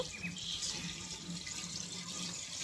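Warm water pours in a soft, continuous gush into a pot of mutton curry with pointed gourd, heard close but at low level with no voices.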